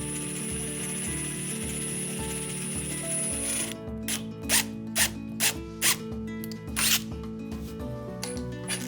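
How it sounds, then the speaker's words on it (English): Long screws are power-driven into a wooden top rail: a drill whirs in short pulsing bursts, then a series of loud, rhythmic ratcheting clicks as each screw bites in, close up with no speech. "I secure the top rail firmly with long screws."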